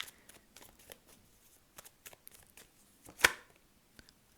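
Soft, scattered flicks and taps of tarot cards being shuffled close by, ending in one sharper snap, with quiet pauses between.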